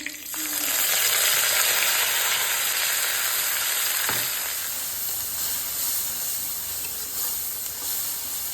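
Onions and bay leaves frying in hot oil for an Assamese fish curry, a steady close sizzle with a soft stir or clatter partway through, no talking.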